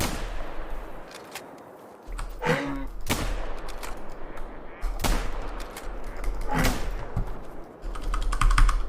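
Video game gunfire rings out in several sharp, loud bursts, with single shots and short volleys spread over a steady low background rumble.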